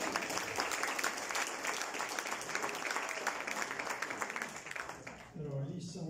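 Guests at a book launch applaud with sustained, somewhat thin clapping that runs for several seconds and then fades, with a voice and some murmuring emerging near the end.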